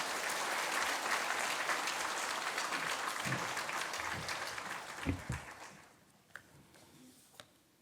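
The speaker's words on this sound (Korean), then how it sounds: "박수로 맞이해 주십시오." A church congregation at a Sunday worship service applauds to welcome a missionary pastor. Steady clapping runs for several seconds, thins out with a few louder individual claps, and then tapers into near quiet.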